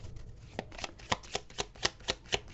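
A deck of tarot cards is shuffled nearby, with a regular run of riffling snaps, about eight crisp bursts evenly spaced and fairly loud, and no voices over them.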